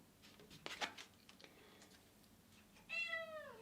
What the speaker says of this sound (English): the kitten also coming in here, making a sound